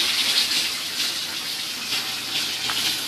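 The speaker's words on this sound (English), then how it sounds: "There's a ton of water." Water gushing steadily out of a clogged household dishwasher during an attempted repair, a continuous close, loud rushing hiss with no voices over it.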